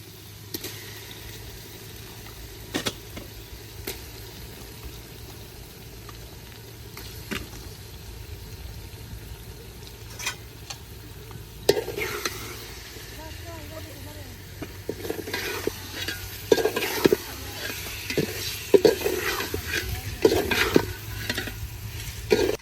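Small pieces of meat sizzle in oil in a pan for a village biryani, with a low constant fry and scattered stirring clatters that grow busier toward the end, no talking.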